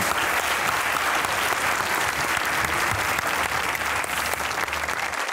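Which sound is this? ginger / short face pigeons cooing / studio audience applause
studio audience applause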